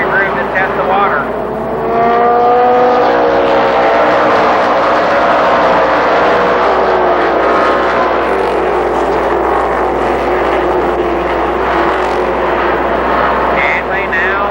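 Race cars at Columbus Motor Speedway, a loud continuous engine roar from several cars with rising and falling pitch as they circle, under a race announcer's commentary.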